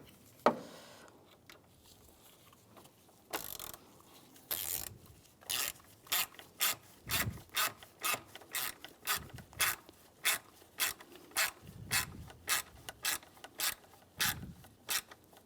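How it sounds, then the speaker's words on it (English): A ratchet wrench tightening a bolt on the A/C condenser of a 2004-2010 BMW X3, a slow start followed by a long run of evenly spaced, crisp clicking strokes, close and alone. "get this bolt started and tighten it down"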